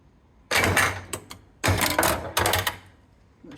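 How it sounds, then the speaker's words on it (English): A Stern Dungeons and Dragons pinball machine powering up and searching for balls gives three close bursts of rapid mechanical clattering and buzzing, separated by short pauses, with no talking. "Machine's looking for balls."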